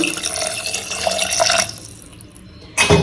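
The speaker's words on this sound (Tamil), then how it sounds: "ஈரல் வேகிற அளவுக்கு தண்ணி ஆட் பண்ணிக்கலாம்." Water runs steadily for about two seconds into a pan of chicken liver, a broad rushing splash, then stops; a short clatter follows near the end.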